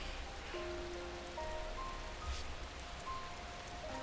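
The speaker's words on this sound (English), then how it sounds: "The water that had gathered on top of the bridge rains down to either side." Water gathered on a bridge rains down on both sides in the Fruit of Grisaia visual novel, a steady soft patter of rain with a faint tonal hum underneath.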